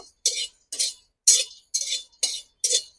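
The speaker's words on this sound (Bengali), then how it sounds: "এগুলোকে আমি শুকনো কড়াইয়ে ভেজে নেব।" Cashews, cinnamon, cloves and cardamom are dry-roasted in an empty wok, with six evenly spaced, close scraping rattles of spatula on metal and nuts and spices tumbling, separated by brief silences.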